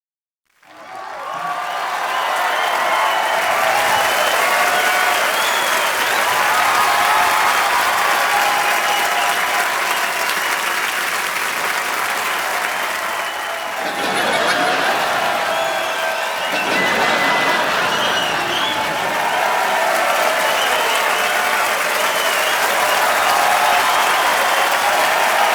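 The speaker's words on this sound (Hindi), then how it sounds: "अनिल सर के लिए जोरदार तालियां" A TV comedy show's studio audience breaks into loud, sustained applause that rises quickly and continues for about twenty-five seconds, with a slight dip midway and some cheering mixed in.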